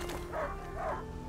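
Dog in the video game A Plague Tale: Innocence giving two short barks or yelps in quick succession, moderately near, over a low continuous background hum.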